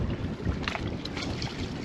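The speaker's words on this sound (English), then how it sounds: "So it's a bit windy" Steady, roaring wind gusts across the microphone aboard a MacGregor 26X motorsailer at anchor, a dense continuous rush with no voices.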